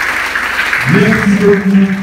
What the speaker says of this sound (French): Est-ce qu'on peut applaudir pour moi et pour le professeur?